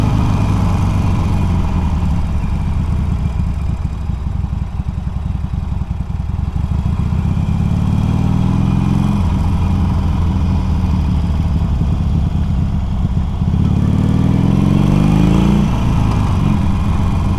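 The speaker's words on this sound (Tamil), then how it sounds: "வண்டி போக போக சவுண்ட் அப்படியே குறைஞ்சிட்டே இருக்கு" A Harley-Davidson Iron 883 motorcycle riding on hill roads around Ooty: a steady, close engine drone with no talk, its pitch climbing and dropping in sweeps as the rider works through the gears.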